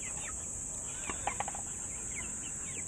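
Young chickens cluck softly and intermittently in a backyard flock, faint calls standing out over a steady high-pitched insect-like drone.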